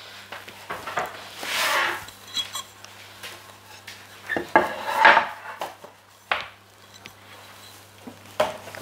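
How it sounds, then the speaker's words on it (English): Chocolate being chopped into big chunks for cookies on a kitchen board: irregular knife strikes and clatters come in scattered bursts with quiet gaps between, up close. "what I'm gonna start doing is just chopping our chocolate in big chunks for our cookies"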